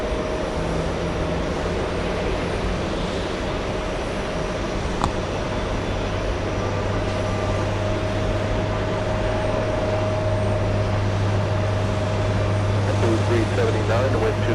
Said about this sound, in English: let's go for the Delta Airlines 267 flight